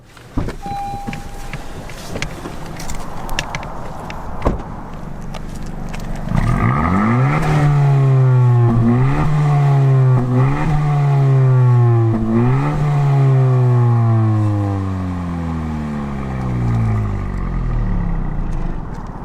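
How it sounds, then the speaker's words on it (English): A 2020 Honda Civic Si Coupe sits idling quietly, then its engine is revved several times, the exhaust note rising and falling in loud, close pulls before settling back. "And I'm going to rev it a few times."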